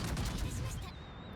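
A salvo of naval guns fires in World of Warships, a loud booming blast that decays into a sustained rumble, alone without talk.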